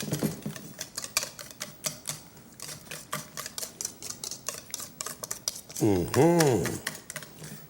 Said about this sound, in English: Stir that in there real good. You got to get it all in there good.